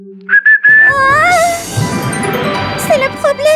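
A few short whistled notes, then a longer wavering whistled tune, close and clear, with voices and light clinking mixed in underneath.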